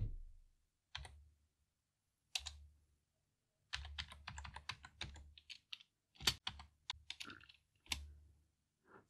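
Computer keyboard keys clatter close and quiet as a password is entered, with a few isolated taps first, then a quick run of irregular keystrokes and scattered clicks.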